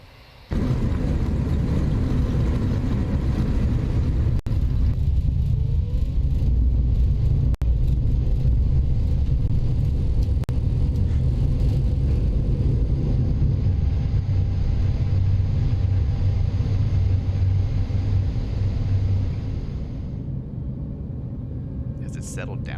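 Airbus A319 landing rollout in X-Plane 11, a loud steady rumble of engines and wheels on the runway with aerodynamic braking, fading somewhat near the end.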